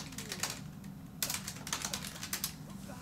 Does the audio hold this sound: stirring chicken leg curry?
no